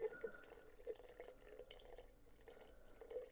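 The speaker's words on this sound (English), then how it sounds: "So you just pour it directly onto your dry material here." Solvent is poured directly onto dry plant material to strip oils and resin for making RSO. It gives a faint, soft trickle with scattered small drips, close and quiet, and no one speaks.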